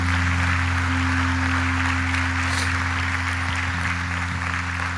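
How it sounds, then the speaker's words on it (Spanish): Congregation applause at a church gospel service, a moderate spread of clapping over a steady low hum and sustained organ-like tones, continuous throughout with no speech. "da un aplauso también por allí"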